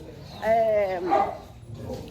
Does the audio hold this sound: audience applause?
no